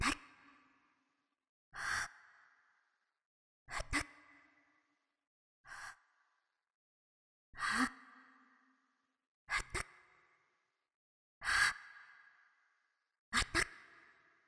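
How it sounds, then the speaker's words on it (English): A voice played forwards and backwards with morphing between the two, giving a breathy, sigh-like effect for epic-style music. About eight short gasping bursts repeat roughly every two seconds, separated by silence. "It just created this sort of unique effect, almost like she's breathing while talking."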